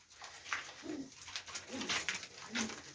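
Pigeons cooing, three soft low coos spaced about a second apart, close by, over faint background noise.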